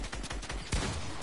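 Rapid gunfire from a multiplayer video game, a dense burst of overlapping shots followed by a heavier blast, loud and continuous through the whole moment.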